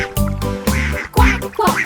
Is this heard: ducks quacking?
yes